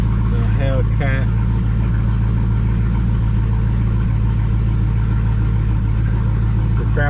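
A Dodge Challenger Hellcat idles nearby with a deep, steady, continuous rumble, and a voice speaks briefly over it near the start.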